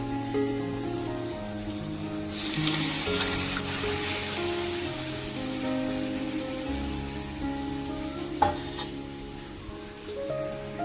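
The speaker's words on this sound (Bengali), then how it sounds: "এবার আমি এই সেদ্ধ ডালটাকে ঢেলে দেবো" Boiled lentils (dal) poured into a hot pan set off a brief, bright burst of sizzling that settles into a softer, bubbling crackle, with steady background music throughout and a sharp clack near the end.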